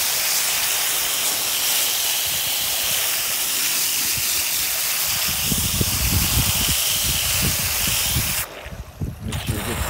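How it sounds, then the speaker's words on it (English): Pressurized water rinses a koi pond filter pad in a steady, close hiss of spraying water that grows into heavier splashing partway through, then cuts off abruptly near the end. "Just wash this down. Give it a good rinse."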